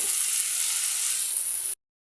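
Raw oil sizzles in a pan while pickle cooks, a steady bright hiss that holds evenly and close for under two seconds before cutting off abruptly into silence.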